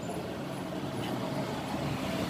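Engine idling steadily right after its valves were adjusted to fix a misfire, a close, even low rumble with no pauses throughout.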